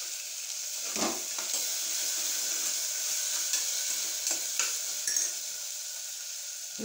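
Chopped tomatoes frying in hot oil with ginger-garlic paste for a mutton curry, a steady close sizzle with intermittent scraping stirs and clinks of a spoon against the pan.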